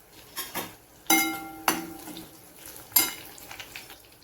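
Curry leaves dropped into hot oil in a pan for a no-onion okra stir-fry, crackling in sharp bursts over a quieter background sizzle, with faint utensil clinks and no talking.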